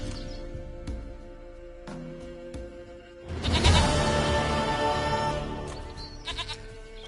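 A goat in the video game Witcher 3: Wild Hunt gives a loud, close bleat lasting several seconds, rising out of quieter game ambience with a few faint clicks and tones.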